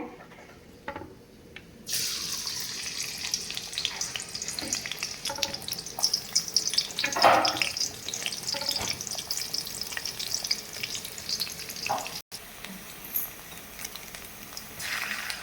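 Chopped onion hits hot oil for pav bhaji and breaks into a loud, close, continuous sizzle after a quiet start, with crackles and occasional stirring scrapes running throughout.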